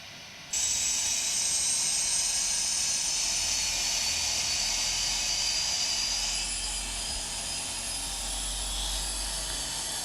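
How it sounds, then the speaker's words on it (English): Engines 3 and 4 of a PMDG 747-8F starting up in the Prepar3D flight simulator, a sudden rise into a steady high-pitched turbine whine over a low rumble that holds loud and constant, with the tone shifting slightly partway through. "we are going to start with engines 3 and 4, and fuel control switches go to run"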